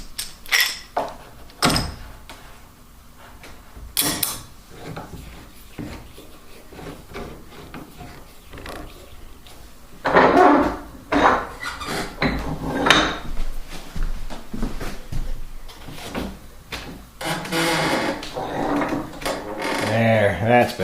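Wooden knocks, scrapes and sliding rubs as a clamp is fitted and tightened while gluing a wing chair frame during reupholstery, irregular close handling noises mixed with a person talking.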